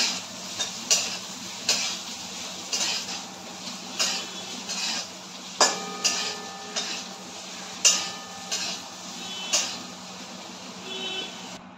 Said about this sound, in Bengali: দেখুন পনিরগুলো আমার লাল করে ভাজা হয়ে গেছে